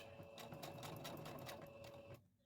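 A sewing machine back stitching fabric for a dog coat gives a steady, close whir with fast needle ticking, then stops abruptly just before the end.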